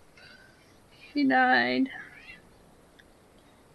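A house cat lets out a single loud, drawn-out meow lasting under a second, up close, with a brief spoken line just before it and quiet room noise around it.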